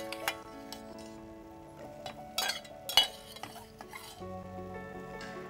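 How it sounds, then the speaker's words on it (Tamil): Boiled chickpeas are tipped into a hot cooking pan with turmeric and stirred, giving close, brief bursts of scraping and clinking against a soft sizzle, with a few sharper knocks from the spoon against the pan. "இப்போ நாம் ஏற்கனவே வேக வச்சுருக்க இந்த கொண்டக்கடலையை இதில் சேர்க்குறோம்."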